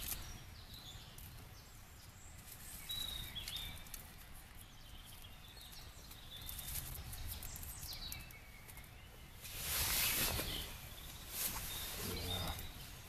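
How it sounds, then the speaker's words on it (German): Faint birdsong of scattered chirps and calls drifts outdoors beside a campfire, with a soft crackle and background noise and a louder rustling burst near the end. "Hör den Vögeln zu."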